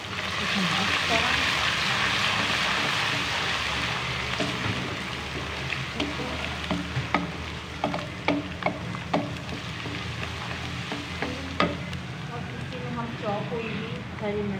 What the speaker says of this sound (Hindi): ये अब इसमें अदरक लहसुन का पेस्ट डाला हमने, इसमें मिक्स करा